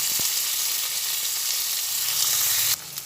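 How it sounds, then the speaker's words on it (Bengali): Steady, close sizzling of onions frying in hot oil, a continuous crackling hiss with a brief louder burst near the end. "পেঁয়াজগুলো ভালোভাবে ভেজে নেব"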